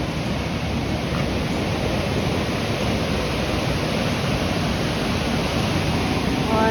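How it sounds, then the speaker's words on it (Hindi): The Alaknanda river at Devprayag rushes with heavy pressure, a dense, steady, loud roar of fast water that fills the whole stretch without pause. "तो ये आ रही है अलकनंदा नदी और यहाँ पे जाके इसका प्रेशर बहुत ज़्यादा है।"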